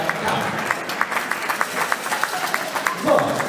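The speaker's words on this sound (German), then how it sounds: "nochmal euer Applaus für die Katja und auch für die Uschi" An arena audience applauds two female boxers after an amateur bout, steady close clapping from a crowd running throughout the clip, with an announcer's voice over it.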